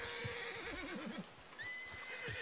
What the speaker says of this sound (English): Hey, look, a horse!